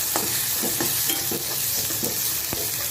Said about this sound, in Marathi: आणि हे सगळं असं छान मिक्स करायचं